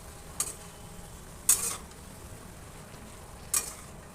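A spatula stirs tender leafy greens simmering in a pan with a little water, salt and turmeric. Three short, separate scraping strokes stand out over a faint, steady background, with no talking.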